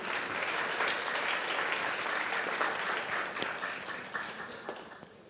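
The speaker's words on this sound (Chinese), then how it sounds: "好，掌声欢迎比赛主席。" Audience applause welcoming the chair of a Mandarin impromptu question-and-answer competition at a spring meeting, a sustained round of clapping from a modest crowd that gradually thins and fades.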